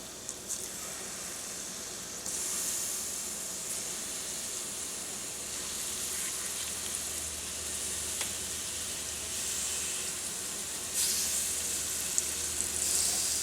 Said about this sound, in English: So we've got a pan heated up on medium-high heat with a little bit of olive oil. And to this we're going to add in our shrimp.